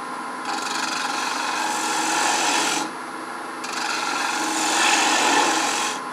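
Wooden bowl turning on a lathe, a tool rasping steadily against the spinning wood in two long passes with a short pause between, loud and close with no talk.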